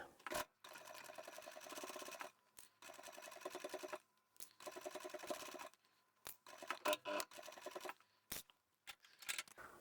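A sewing machine stitches a towel in short bursts of rapid mechanical clatter, separated by brief pauses and small handling clicks, close up and fairly quiet.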